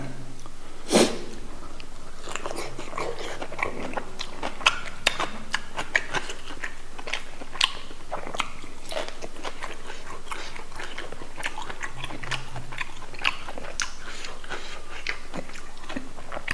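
Crunchy fried pork neck and spicy Isan cucumber salad being eaten up close, with steady bites and wet chewing repeating throughout, a few sharper crunches standing out, and little or no talk.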